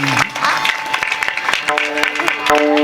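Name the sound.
audience applause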